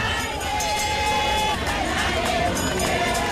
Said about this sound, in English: the crowd stood in the rain, chanting and singing